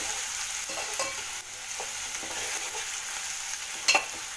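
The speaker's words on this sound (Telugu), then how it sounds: "ఇప్పుడు పచ్చిమిర్చి వేసుకొని మొత్తం కలుపుకోవాలండి." Green chilies sizzle in hot oil while being stirred, a steady background crackle with occasional soft scrapes and a brief sharper clatter near the end, no voices.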